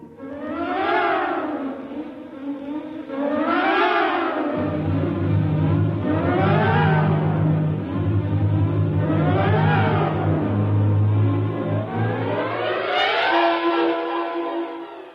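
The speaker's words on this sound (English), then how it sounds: "Somehow the engine coughed and spit us back to the station" Sound-effect engine of a boat in a radio drama, running steadily with repeated rising and falling revving surges over a low droning hum, loud and close, with no voices.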